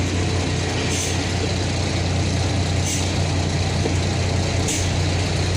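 A Leyland BS4 truck's diesel engine keeps running in a steady, loud idle with a constant low rumble, with faint periodic hisses on top and no talking.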